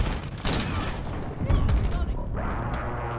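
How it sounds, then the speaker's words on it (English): Precision airstrike explosions in Call of Duty: Modern Warfare (2019 open beta) boom and crackle in a dense, rolling fusillade over about three seconds, loud and close. "Friendly precision airstrike inbound."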